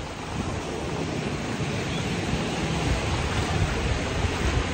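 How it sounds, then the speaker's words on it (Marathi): Big sea waves break on a Konkan beach at Divgar, a loud continuous rushing surf that swells slightly toward the end, with some wind buffeting and no speech. "आता पाहू शकता असला जोरात पाणी आलेले, लाट आलेली घाण मोठी"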